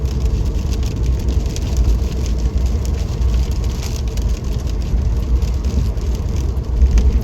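Car driving along a road covered in fallen leaves on a wet day, a steady low engine and tyre rumble with a faint rain-like hiss running continuously and close throughout.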